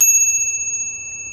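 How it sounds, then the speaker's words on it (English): A handlebar-mounted bicycle bell on a bikepacking bike rings once with a bright, sustained metallic ping that slowly decays, close and clear over faint background hiss. "I have my bell."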